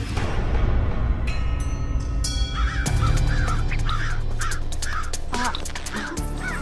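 Several crows caw in repeated harsh calls from the middle distance over a steady low rumble of outdoor background noise, likely near a roadside food stall at night.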